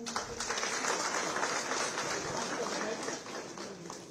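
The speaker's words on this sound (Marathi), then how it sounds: "सर्वांना विनंती आहे की कृपया टाळ्या वाजवाव्यात।" An audience at a Gadchiroli police ceremony claps as team leaders are invited onto the stage, producing sustained, fairly distant, dense applause for several seconds that slowly thins toward the end.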